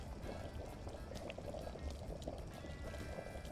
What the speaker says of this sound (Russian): Там выкипает вода еще.